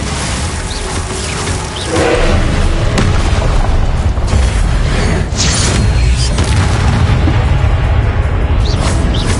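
Spell effects in Hogwarts Legacy during combat, including the Glacius ice spell: loud booming blasts and crackling bursts one after another over a rumbling background, with no talking.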